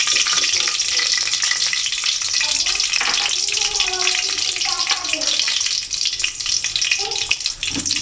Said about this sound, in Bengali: আর দিয়ে দিচ্ছি আস্ত জিরা। দিয়ে দিচ্ছি পেঁয়াজ আর কাঁচামরিচ।